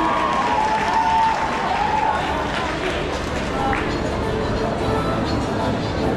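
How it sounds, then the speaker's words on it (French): Steady applause from a live audience at an anime convention stage, broad and continuous across the whole stretch, with a host's voice speaking over it. "On applaudit Walid, s'il vous plaît"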